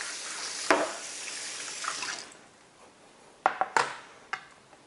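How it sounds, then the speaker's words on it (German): Tap water runs over a fish and a cutting board at a kitchen sink while flatfish such as plaice are cleaned for filleting; a steady rinse fades, then a few sharp splashes and knocks follow near the end. "Ein bisschen abspülen, ausspülen, Brett ein bisschen abspülen."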